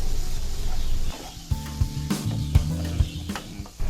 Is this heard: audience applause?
no